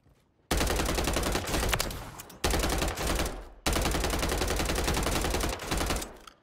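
An SMG fitted with a Crotalis assault stock rips off long automatic bursts in a video game, three sustained volleys broken by brief pauses. The fire is loud and close, and nothing talks over it.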